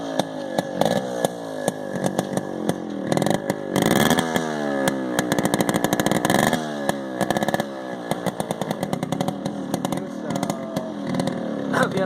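A Yamaha RX135 two-stroke motorcycle runs close by with a newly fitted muffler. It gives a raspy, buzzing exhaust note that swells in repeated revs and blips over a constant idle, loud and with no voices.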